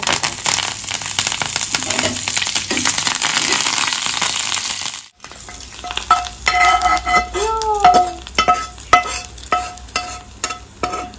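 Tempering for dahi bara crackles and sizzles in hot oil with green chilies and mustard seeds, a loud stirring scrape followed by a pause, then sharp popping and clinks of a utensil against the pan.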